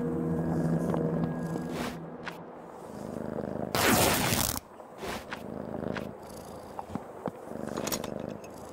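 A cat in the video game Creepy Tale 2 purrs softly and steadily, joined by a brief loud rustling burst midway and light game ambience.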